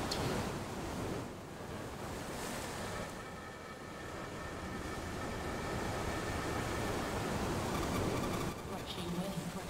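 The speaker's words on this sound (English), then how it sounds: "Crushing waves, crushing waves." Ocean waves wash steadily onto a sandy shore in a continuous broadband roar, swelling and easing slightly, with wind buffeting the microphone and some talk over it.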